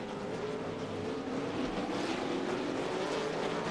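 Race cars roar continuously through turn 10 on the Sonoma Sears Point road course, a loud, sustained engine drone at a middling distance with no voices.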